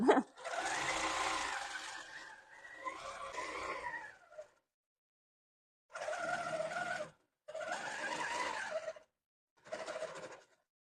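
Sewing machine stitching a crumb quilt made of small fabric scraps, running in several loud, steady bursts of a few seconds each, with short silent pauses between them.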